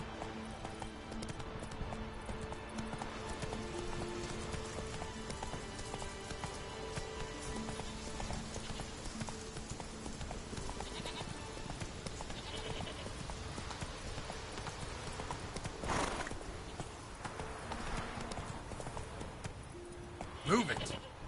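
Roach, a horse in The Witcher 3, runs with steady clip-clop hoofbeats throughout, close and even under game music and ambience, with a brief louder burst near the end.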